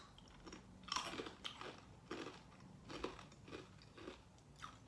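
Someone chews a crunchy toasted cheese snack close up, with several distinct crunchy bites spread irregularly across the moment, moderately quiet, with no talking.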